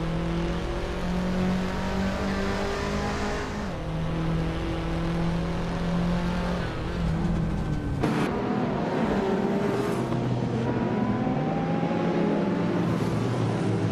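Several race cars whine through gear changes in a racing video game, their engines droning and shifting pitch in overlapping layers, loud and continuous with a sharp transition partway through.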